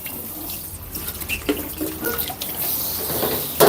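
Running tap water splashes steadily into a sink while a utensil is rinsed under it in a home kitchen, with faint clinks and shifting flow throughout, close and with no talking.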